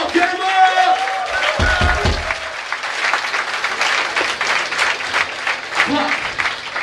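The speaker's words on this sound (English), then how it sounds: "please Give yourselves a round of applause for being right here, right now." A hardcore punk concert crowd at a summer festival breaks into applause and cheering that builds after a vocalist shouts to them, then keeps going as dense, roaring clapping in a large space.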